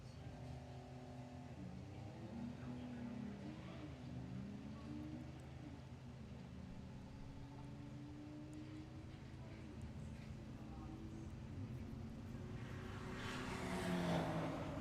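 A Porsche 911 Carrera 4 and a Corrado idle and rev at a drag strip start line at a Bug Jam event, engines droning steadily with rising revs, while crowd noise and a commentator's voice carry over the top.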